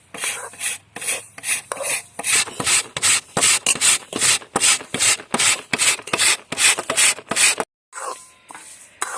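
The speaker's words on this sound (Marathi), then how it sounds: "तर हा गुळ एकदम बारीक किसून घेणार आहोत आम्ही किसणीच्या साहाय्याने" Jaggery scraped finely on a hand grater: quick, rhythmic rasping strokes, close and fairly loud, repeating steadily before a short pause and then resuming, with no voices.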